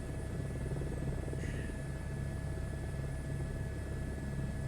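Crop-spraying airplane landing in Microsoft Flight Simulator 2024, a steady droning engine rumble with a faint whine running unbroken throughout, fairly loud and close, with no talk.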